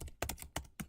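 Quick keystrokes on a computer keyboard, four crisp clicks in an uneven rhythm, close and fairly quiet with nothing else over them.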